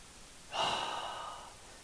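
A single slow inhale during a yoga exercise, a soft airy rush of breath that rises quickly and tapers off over about a second in a quiet room.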